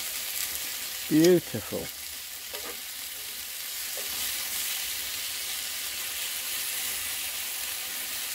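Pork medallions and apples sizzle in a pan over a wood fire, a steady frying hiss running throughout, with a brief spoken word early on.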